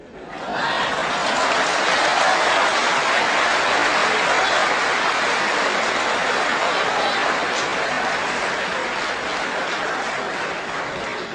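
Sustained applause from a large audience at a religious debate lecture, dense and steady for the whole stretch, loud and broadband with no pauses and no speech over it.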